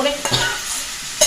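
Pre-fried fish heads go into a pan of cooked spice masala, where a spatula scrapes and stirs them against a hissing, sizzling base, with a couple of sharp clinks.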